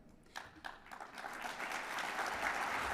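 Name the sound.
convention audience applause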